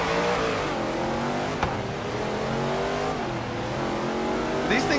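Hot Wheels cars race in Forza Horizon 3, with a loud engine revving and shifting pitch through the gears, occasional brief tire or impact noises, and faint talk mixed in underneath.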